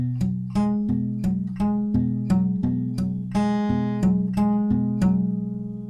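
Acoustic guitar fingerpicked in a steady, close, solo pattern: a repeating low bass note under rolling plucked upper strings, each pluck ringing into the next with a clean, even rhythm.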